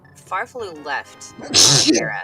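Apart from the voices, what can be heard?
sneeze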